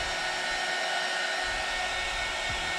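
A heat gun blows steadily on black polish coating a police cadet boot, a continuous broadband airy roar that holds even and fairly close for the whole stretch with no one talking.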